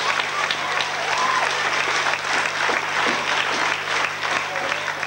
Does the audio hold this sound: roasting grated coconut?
no